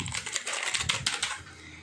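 Quick bursts of typing on an old mechanical keyboard, sharp close clicks in a fast run that thins out toward the end.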